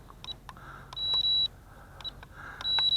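Trim buttons on a JJRC H8 drone controller give a series of short, high electronic beeps, some clipped and some held longer, pressed in an irregular rhythm close by over faint background noise.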